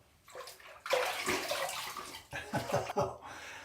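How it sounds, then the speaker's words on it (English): A Merkur Futur adjustable razor is rinsed under cold running water, a close rush and splash with gurgling sloshes as the blade is swished through the stream. "Okay, that's the second pass down. Let's rinse."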